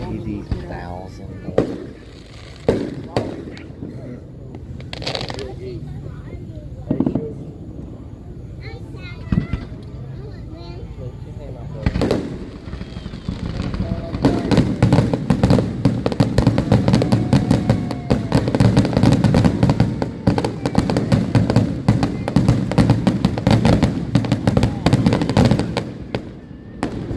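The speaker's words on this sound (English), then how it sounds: "America probably is one of the only countries that does fireworks" Fireworks bursting at a family Fourth of July celebration, with scattered booms early that build into a long, loud, continuous barrage of crackling explosions, while people talk beneath the noise.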